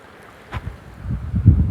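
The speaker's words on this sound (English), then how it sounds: "Not cold, just cool and windy." Cool wind on a rocky mountain trail in Slovakia's High Tatras buffets and rumbles in low gusts that build toward the end, with a brief scrape partway through and no voices.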